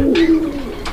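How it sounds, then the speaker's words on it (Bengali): A Rajshahi pigeon, kept among pigeons for sale, gives a close, clear low coo lasting under a second. "তো কবুতরের ডাক তো আপনারা দেখছেন তাই না? সারাক্ষণ ডাকে ভাই, সারাক্ষণ ডাকে।"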